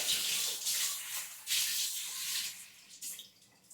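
Water poured from a container into biscuit mix at a cowboy camp, a hissing, splashing stream in uneven surges lasting a few seconds, close and moderately loud.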